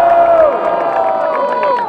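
A crowd cheers and shouts loudly at a student rap battle in Brazil, a sustained roar of whoops and high voices with no break for its full length.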